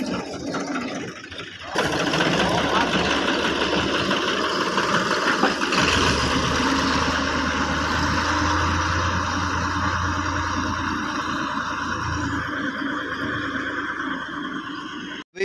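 A tractor engine runs steadily while clearing ground of heaped rubbish at a home preparing for a Milad gathering, a loud continuous rumble that starts abruptly after a quieter opening and holds throughout.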